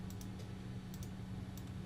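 A computer keyboard is typed on quietly, a few short clustered key clicks spaced through a soft steady background hum, entering a value.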